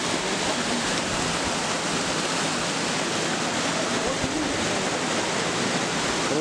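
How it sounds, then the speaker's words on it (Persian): Waterfall fed by a small river in a valley near Mashhad, a loud, continuous roaring wash of falling water that fills the whole stretch. "کلی آبشار از همین رود کوچیک بچه."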